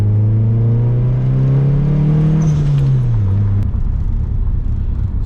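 Mitsubishi Eclipse DSM under way at cruising pace from inside the cabin, a loud steady engine drone rising slightly in pitch before dropping as revs fall, with continuous road rumble underneath.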